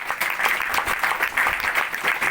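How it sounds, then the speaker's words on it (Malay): Audience applause for leaders introduced at a corporate gathering, a steady dense patter of many hands clapping throughout, without talk. "Tepukan dulu."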